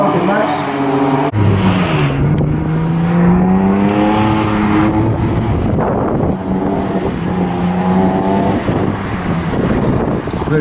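A drift car on a competition run at a drift challenge final, engine screaming and wavering as revs rise and fall through the bottom clip, loud and near with wind buffeting and a commentator talking over it.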